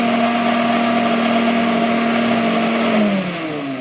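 A kitchen machine churning butter whirs with a steady, loud motor hum, then spins down as it is switched off at the mains near the end.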